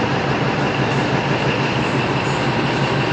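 Kolar DEMU train at KSR Bengaluru City station heard as a steady, loud broadband rumble of rolling rail cars, close and continuous without breaks, with no voices over it.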